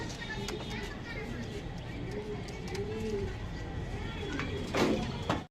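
Pigeons in a collection coo softly in a few low, rolling calls against steady background noise, with a brief scuffle or flutter near the end.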